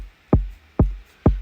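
Bass house kick drum lacking high end: three dull, boomy low thumps land at an even pace, about half a second apart, with a quick downward pitch sweep and no click on top, played alone over faint hiss.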